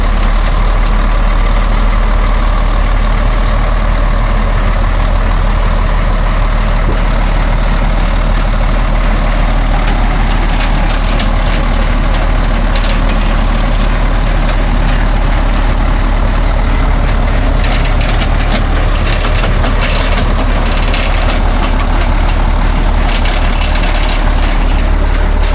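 A logging truck engine labours hard through mud in a loud, constant, deep roar that continues without a break, dense with rumbling and rattling, and no voices are heard.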